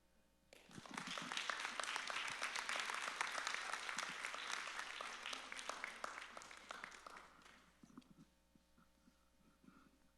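Church congregation breaking into warm applause during a farewell to a departing pastor and his wife, sustained clapping that rises quickly, holds for about seven seconds, then thins to scattered claps at low overall level.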